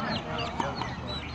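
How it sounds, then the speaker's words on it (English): Chickens squawk and cluck in short bursts near an outdoor pickleball court in Hawaii, with people talking over the birds and a steady background murmur. "Get out of here, chickens!"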